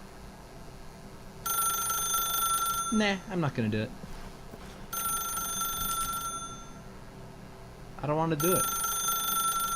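A telephone in the video game The Stanley Parable rings in three long, bright electronic bursts, each followed by a pause, while someone talks between and over the rings.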